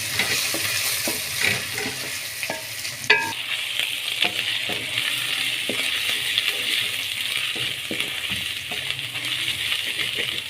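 Ginger garlic paste fries with cumin in a pan, a steady close sizzle running throughout with scattered small ticks and one sharp metallic clink of a spoon against the pan.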